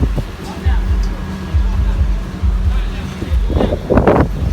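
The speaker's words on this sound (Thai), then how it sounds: "เจอลมขนาดนี้นะครับ" Strong storm wind gusts roar into a rumbling microphone at an outdoor concert stage, with heavy buffeting bursts and rising noise toward the end; voices are faintly present underneath.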